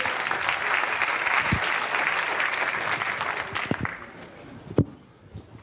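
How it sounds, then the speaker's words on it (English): Applause from a tech-conference audience welcoming the next speaker, a talk on the Crazyflie quadcopter, a dense steady clatter of many hands that tapers off toward the end, with a few isolated claps trailing into quiet. "Let's applaud him."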